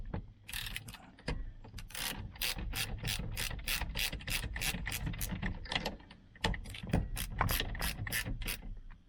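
Socket wrench ratcheting on the steering wheel bolts of a 1991 Chevy pickup, a quick series of close, crisp clicking bursts in uneven spurts, with brief pauses in between.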